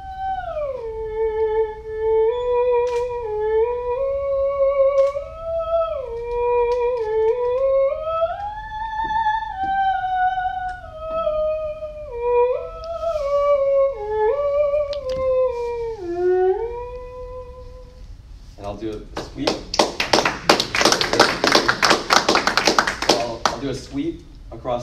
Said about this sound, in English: So this is the theremin, probably as good as I'll be able to play with just the treated